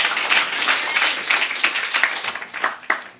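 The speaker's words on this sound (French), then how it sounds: "And we clap our hands for the interpreter." A church congregation claps for the interpreter in a short, fairly close round of applause with uneven, scattered hand claps rising and falling over a few seconds.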